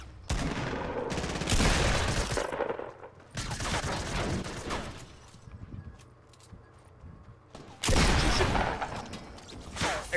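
Gunfire in the Fortnite video game comes as loud, dense bursts of rapid shots, broken by quieter gaps with a fainter crackle before a final heavy volley.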